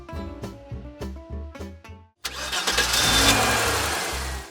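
A car engine cranks several times in rhythmic bursts and then catches. It roars into a sustained loud rev while the car strains to pull against an old tree.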